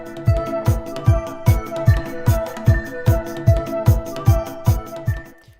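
Electronic music track in Ableton Live driven by a steady four-on-the-floor kick drum, about a dozen even, punchy thumps over sustained synth tones, fading out at the end.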